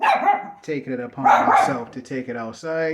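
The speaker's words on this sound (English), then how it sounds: "Excuse the dog that's barking." A dog barks repeatedly in sharp bursts underneath someone talking nearby, the barks overlapping and alternating with his speech indoors in a home gym.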